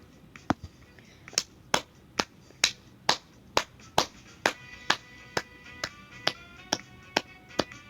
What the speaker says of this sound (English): Don't ask why I'm clapping. I'm just clapping because I really want to.